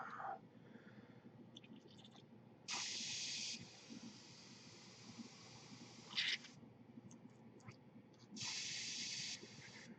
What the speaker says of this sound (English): It's not a bad airbrush. Sprays relatively well.